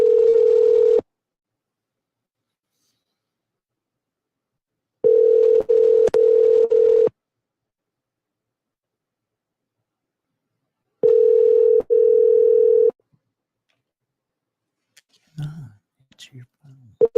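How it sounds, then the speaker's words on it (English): Telephone dial tone in steady bursts, one about a second long, then two longer ones of about two seconds each, separated by silence, ending with faint handling clicks. "It's your phone."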